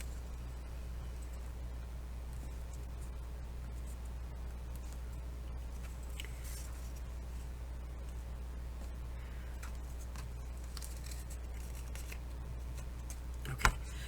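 Paper being folded and creased by hand to make a micro envelope, with quiet scattered rustles and taps over a low steady hum and one sharp tick near the end.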